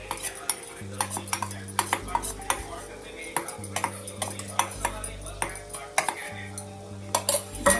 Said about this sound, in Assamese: নাৰিকলখিনিও এনেকৈ অলপমান লৰাই দিম